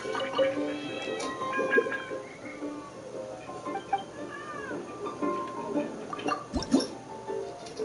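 Several cats meow repeatedly in the video game Genshin Impact, with overlapping, varied, fairly close mewing calls scattered throughout amid light ambient game sounds.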